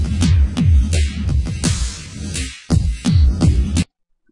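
A slowed-down song plays dry, without reverb, in the Sony Vegas editor: deep, heavy thudding beats pulse in a stretched, sluggish rhythm, then cut off abruptly into silence.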